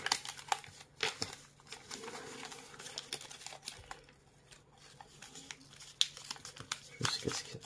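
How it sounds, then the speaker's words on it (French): Origami paper being folded and creased by hand, with scattered crinkles, soft taps and sharp crisp snaps of the sheet at close range, fairly quiet and irregular. "On marque le pli en arrière."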